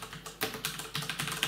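A command is typed into a terminal on a computer keyboard: a quick, close run of crisp keystrokes lasting about a second and a half, with nothing else audible.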